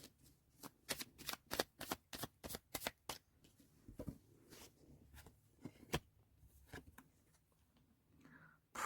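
Oracle cards being shuffled by hand, a close run of crisp riffling slaps in steady rhythm, then a few scattered flicks and softer rustles.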